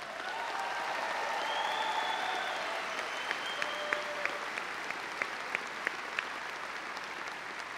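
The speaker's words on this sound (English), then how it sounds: "let's recognize them with a big round of applause." Sustained applause from a large audience at a summer college commencement ceremony, a dense, even wash of clapping with a few louder individual claps standing out near its end, no speech over it.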